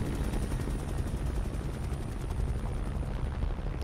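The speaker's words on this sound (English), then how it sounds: "this time the helicopter ain't gonna see me" A helicopter passes overhead in the Call of Duty Black Ops Cold War campaign, played on PS5: a steady, loud rotor drone with dense low rumble that holds level throughout, no voices.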